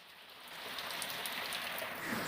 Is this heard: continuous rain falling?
yes